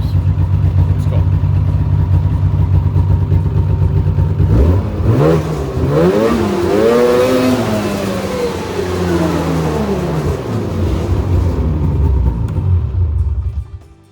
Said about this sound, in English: We're gonna rev it up here a couple times